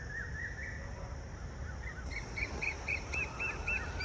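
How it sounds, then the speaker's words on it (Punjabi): Several birds chirp and call in short repeated notes in the evening over a steady low rumble, fairly distant and continuous through the clip. "ਪੰਛੀਆਂ ਦੀਆਂ ਆਵਾਜ਼ਾਂ ਸਵੇਰੇ ਤੇ ਸ਼ਾਮ"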